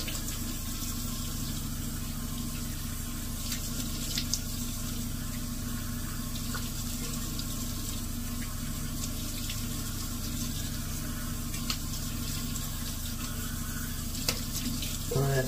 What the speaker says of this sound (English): And let's rinse it off.